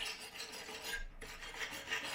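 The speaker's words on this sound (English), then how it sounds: "I'm going to brush off the stuff from the tacks so it's not in my weld." A stainless wire brush scrubs weld tacks on metal tubing with a continuous, fairly quiet rasping, scratching sound, pausing for a moment midway.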